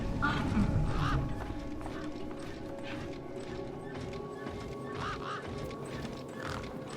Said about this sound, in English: Oh, that's a weird bird.